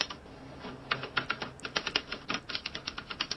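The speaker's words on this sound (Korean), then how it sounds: "타자기로 타이핑한다는 소리가" Typewriter typing, AI-generated, gives a quick, irregular run of sharp mechanical keystrokes that speeds into a steady patter, quiet and close with no voices.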